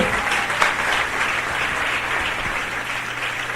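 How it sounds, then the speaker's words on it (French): A church congregation applauding to acclaim the Lord at an evangelistic service, steady continuous clapping at moderate distance, filling the whole moment without pause. "Allons acclamer le Seigneur."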